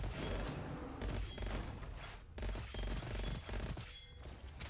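Homing shots fire in the video game Gunfire Reborn, a dense, continuous rattle of rapid gunfire and booming impacts that stays loud throughout with no talk.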